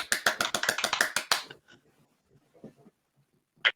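A quick burst of about a dozen sharp hand claps in rapid rhythm, then near silence with faint rustles and one last clap.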